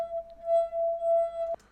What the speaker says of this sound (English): This is the sound of my wine glass.